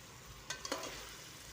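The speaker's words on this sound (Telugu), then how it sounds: "మంచిగా ముక్క మంచిగా ఉడుకుతుంది" Chicken pieces simmer in a pan with a soft sizzle, broken by a few brief scraping stirs. The sound is quiet, with no talking.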